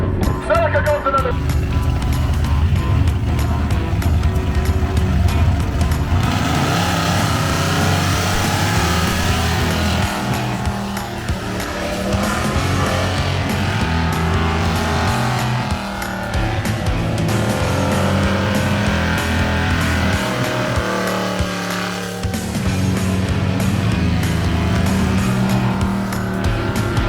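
A Ford F250 truck and a Toyota Celica drag race at a duct tape drags event, engines roaring loud and steady with tire noise as the cars pass, while people talk over the racket.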